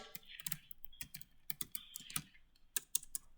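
Java code typed on a computer keyboard, quiet, close clicks of keys in uneven bursts with short pauses between them.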